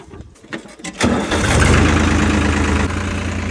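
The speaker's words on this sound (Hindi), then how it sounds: "कर दे इहनूं स्टार्ट ट्रैक्टर नूं" A New Holland 3630 farm tractor cranks and fires up, with a few starter clicks and whirs giving way to a loud, steady diesel idle close by.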